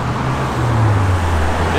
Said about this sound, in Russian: Троллейбусы. Десятка и десятка. Прикольно. Две десятки под окном.